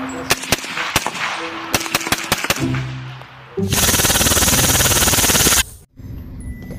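Video game gunfire in Jurassic World Evolution 2: a string of sharp single shots, then a sustained, loud burst of rapid machine-gun fire that cuts off abruptly, with no talk over it.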